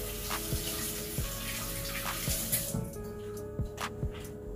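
Tap water running steadily into a sink while a spaghetti squash is rinsed under it, a continuous close splashing rush with a few faint knocks and shifts as the squash is turned.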